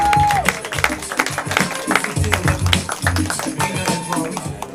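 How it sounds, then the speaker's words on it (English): A comedy club audience claps and cheers loudly for an arriving stand-up comedian, a dense burst of applause that keeps going steadily for several seconds. "Let's start a big round of applause"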